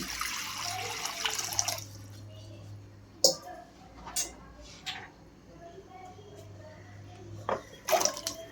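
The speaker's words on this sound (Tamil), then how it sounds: "ஒரு சொம்பு தண்ணி" Water pours from a pot in a short splashing rush, followed by quieter drips and small clinks nearby, while sambar is being cooked.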